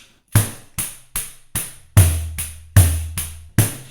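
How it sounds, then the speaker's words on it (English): Nine crisp frame-drum strokes in a quick samba rhythm, jingles ringing over mostly sharp slaps, with a few deeper, booming open tones mixed in. "I play muffle, tip, tip, tip, open, open, and the bar is complete"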